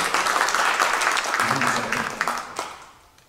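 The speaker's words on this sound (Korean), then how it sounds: "박수 내주시죠" Audience applause at a Korean mission-church culture forum, a dense patter of many hands that swells briefly and then fades out over about three seconds, with some murmuring under it.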